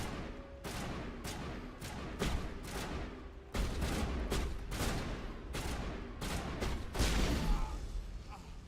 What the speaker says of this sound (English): Man, are they all using shotguns?